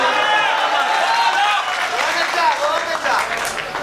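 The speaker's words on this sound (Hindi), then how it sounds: "अच्छी बात, आप तालियां लगा रहे हैं" Audience applause at a humorous Urdu poetry recital, a dense continuous patter of many hands clapping at moderate loudness, mixed with faint crowd murmur throughout.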